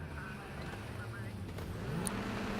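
Rallycross cars rev their engines at the start of a race in Ketchikan, Alaska. The faint, distant engine roar sits under a commentator's voice.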